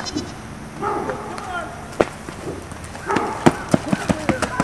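Nigerian dwarf goats bleat a few times close by, with people talking over them and sharp clattering knocks and hoof-like taps toward the end.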